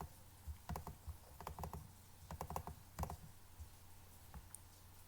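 Fingers tap away on a computer keyboard in short, uneven bursts of soft clicks and clacks, heard faintly over a steady background hum.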